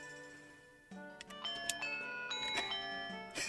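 Chiming bell tones from the Majora's Mask game, a series of clear ringing strikes layering into a bright, sustained melodic cascade with gentle background music and no talk.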